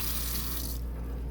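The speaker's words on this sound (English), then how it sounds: "sink water is working." A sink tap runs inside a Storm Fleetwood RV, a brief, steady hiss of flowing water, fairly quiet and alone with no talk.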